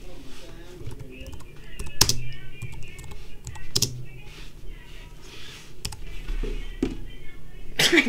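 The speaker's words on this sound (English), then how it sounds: "Let's just type this." Typing on a computer keyboard, a steady patter of small key clicks with a few louder taps, heard close up over faint background noise and music.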